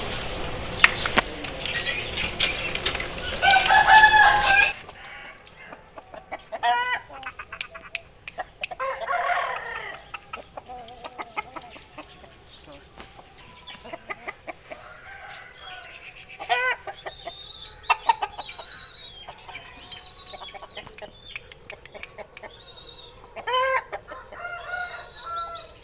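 A lakha mushka Aseel rooster crows loudly and close at the start, followed by scattered soft clucks and low calls with quiet pauses between them.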